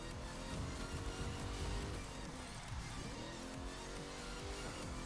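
Shelby GT500 in a racing video game, its engine droning steadily with repeated rising revs and tire squeal layered in, loud and continuous with no voices.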